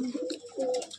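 A young male pigeon of a bloodline loft coos once, a short, soft, throaty two-part call heard close up.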